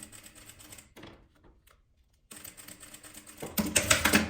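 A sewing machine stitching a zipper onto fabric in a patchwork sewing lesson: rapid mechanical clatter runs, stops for about a second, then resumes and grows louder and busier.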